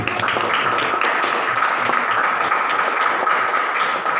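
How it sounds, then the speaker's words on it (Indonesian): A classroom of students claps their hands together in a dense, steady burst of applause lasting about four seconds, fairly loud and close, with no talking over it. "Tepuk tangan dulu."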